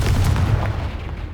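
A fiery blast from the Confringo spell in the Hogwarts Legacy video game, a single loud, deep boom that fills the moment and slowly decays without any talk.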